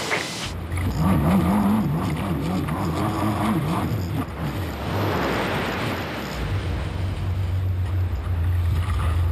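A Bondi lifeguard rescue jet boat runs its engine out on a bay, a steady loud roar with wind buffeting the microphone, and the note shifts lower near the end.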